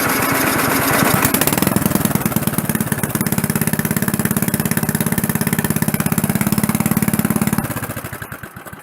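A snowblower engine with no muffler catches and runs without choke, a loud rapid popping chug that settles into a steady, close idle before cutting out.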